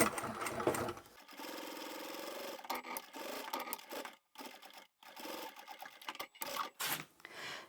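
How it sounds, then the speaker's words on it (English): A sewing machine top stitches through vinyl and zipper tape at a longer stitch length, running in steady bursts of rapid mechanical stitching separated by short pauses, close and clear with no talking. "Then you want this zipper tape to sit behind the vinyl, and we can top stitch."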